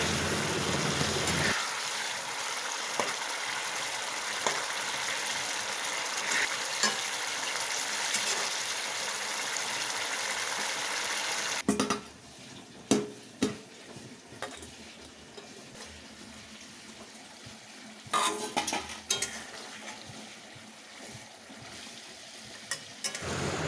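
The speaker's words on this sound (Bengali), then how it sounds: "ওর মধ্যে দিয়ে দিলাম মাছ মাছ দিয়ে ভালোভাবে নেড়ে চেড়ে ঢাকা দিয়ে দেবো পাঁচ মিনিটের জন্যে" Rohu fish curry simmering in a pan, a steady loud sizzle and bubbling at first, then a quieter covered simmer broken by a few clattering utensil knocks.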